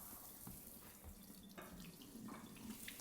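Water runs steadily from a kitchen tap while someone rinses up after baking crinkle cookies, a soft continuous splashing stream with small clinks of items under the flow.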